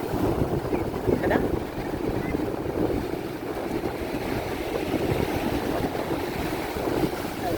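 Waves surge and break on a beach in a continuous close rumble, mixed with wind buffeting the microphone, while people can be faintly heard nearby.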